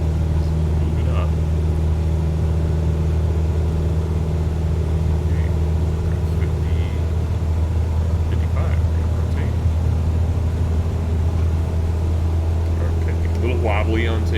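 A Cessna's piston engine drones steadily at high power through a takeoff roll at Falcon Field (KFFZ) in Microsoft Flight Simulator, a loud, even hum with a low rumble throughout.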